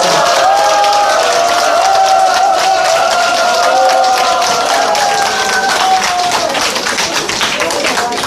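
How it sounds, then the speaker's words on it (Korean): A crowd at a political candidate's rally claps and cheers loudly and continuously for his entrance, with a tonal music or announcement layer running beneath the noise. "여러분 힘찬 박수 부탁드리겠습니다."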